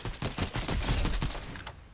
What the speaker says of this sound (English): Hey, what are you shooting at?